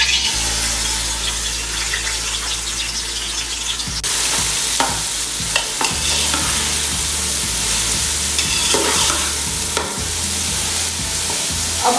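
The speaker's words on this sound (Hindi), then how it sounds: "अब हम इसमें आधा किलो से ज़्यादा प्याज चॉप किया हुआ ऐड करते हैं" Half a kilo of chopped onions in about four spoons of oil fry with a steady close sizzle, with stirring clatter and scraping running through, no voices.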